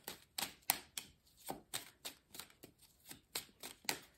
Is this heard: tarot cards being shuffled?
yes